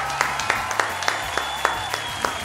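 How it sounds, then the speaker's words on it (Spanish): Brief, scattered applause from a small group, with sparse individual claps over a low background hum, lasting a couple of seconds. "yo creo que merece un aplauso esta aplicación"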